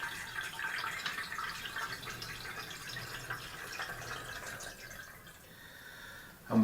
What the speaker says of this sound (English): we run a bit more water through from jug 9